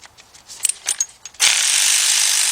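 A wrench loosens the wheel bolts on a car, first with a quick series of sharp ratcheting clicks, then a loud, sustained, close-up whirring burst.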